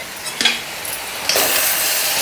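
Eggplant chutney frying in oil in a pan, a few soft stirring scrapes early on, then a steady broadband sizzle that holds to the end, fairly close and with no talk over it.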